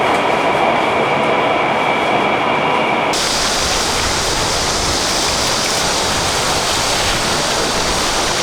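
A Shanghai Metro Line 13 train ride, with steady loud broadband rumble and rushing roar throughout, shifting in tone partway as the carriage moves along the track.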